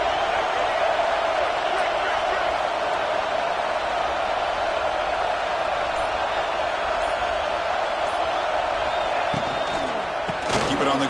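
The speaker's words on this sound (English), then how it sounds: "the crowd really making some noise now, trying to help out this defense to get this stop near the goal line." A college football stadium crowd roars steadily near the goal line, a loud continuous wash of noise with a commentator speaking over it.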